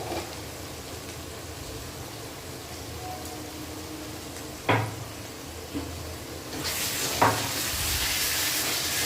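Cumin and ginger paste fry with onions in a pan, a soft, low sizzle broken by a couple of sharp utensil knocks, with the hiss growing brighter and louder near the end.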